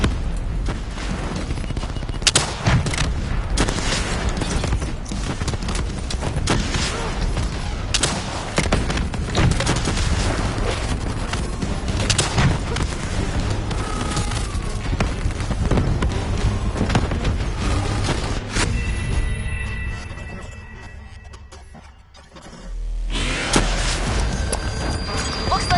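Rapid, relentless gunfire and booming blasts fill a Call of Duty Black Ops 3 campaign battle against a Manticore mech. The shooting is loud and continuous, dips briefly near the end, then resumes.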